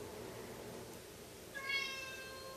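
A cat gives a single short meow, fairly faint and a little distant, standing out briefly from an otherwise quiet room.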